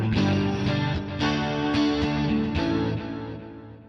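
Sustained electric guitar chords through a Digitech RP250 processor with a lush, shimmering wash of chorus, echoing delay and reverb, strummed several times and ringing out.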